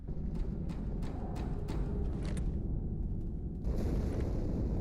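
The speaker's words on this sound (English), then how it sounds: "That explosion came from inside the Athens, same as the Malta." A muffled explosion aboard the ship Athens in Halo 2 rolls out as a dense, rumbling boom under steady low noise, followed by a renewed burst of roaring rumble near the end; no talk.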